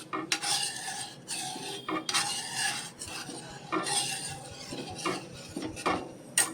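A spoon stirs milk into pumpkin kheer in a cooking pot, scraping and swirling in repeated rasping strokes with short pauses, close and fairly loud, with no voices.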